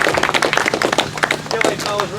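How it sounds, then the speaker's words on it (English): Crowd at an off-road buggy racing championship clapping, a quick burst of close, sharp handclaps over a faint low hum. "Give these guys a round of applause."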